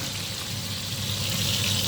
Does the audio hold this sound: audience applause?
no